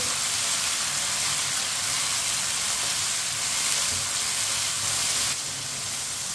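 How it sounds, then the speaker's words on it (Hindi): Finely chopped tomatoes fry with onions in a pan, giving a steady, close sizzle and hiss that holds at an even level and eases slightly near the end; no one speaks. "बारीक कटे हुए 2 टमाटर, टमाटर को भी 1 मिनट के लिए पका लेंगे।"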